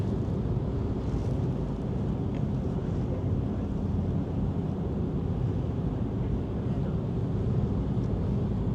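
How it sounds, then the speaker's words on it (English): Steady low rumble of a boat engine on Sydney Harbour, with wind buffeting the microphone throughout and no distinct passing swell. "Another boat coming."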